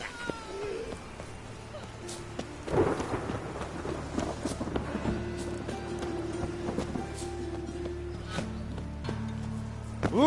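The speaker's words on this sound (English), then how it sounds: "It just rains and rains." Steady rain hisses in The Witcher 3: Wild Hunt, with a deep rumble of thunder breaking in early and lingering over the constant wash of falling water.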